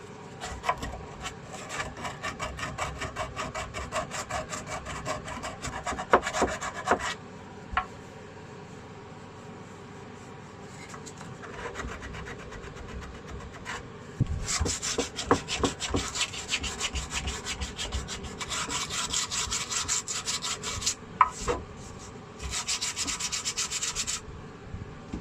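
A PowerFile finger sander works a wooden guitar neck heel, giving a raspy abrasive rubbing in bursts that start and stop, close and steady, with quieter pauses between passes.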